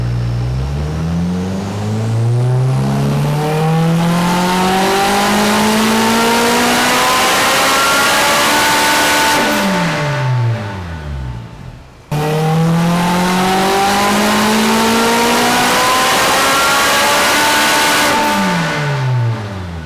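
A turbocharged Honda S2000 engine is revved twice during tuning. Each pull climbs steadily in pitch, loud and close, then drops off sharply with a short gap between runs.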